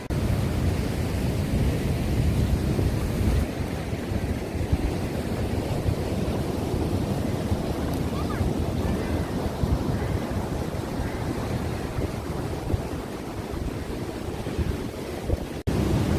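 Sea waves roll onto Snehatheeram and Oho beach where a local stream flows into the sea. The surf roars continuously and loudly, mixed with heavy wind buffeting the microphone, and no voices are heard.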